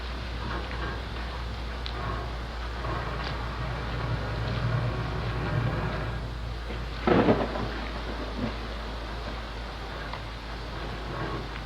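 A thunderstorm with rain rumbles steadily in the background, with one brief louder crack partway through over a constant low hum.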